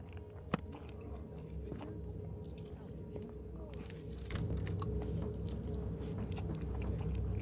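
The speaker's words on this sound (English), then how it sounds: "Why am I still chewing on fucking pizza?" A person chews pizza close to the microphone, with steady wet chewing and soft crunches over a low background hum, a sharp click near the start and slightly louder chewing in the second half.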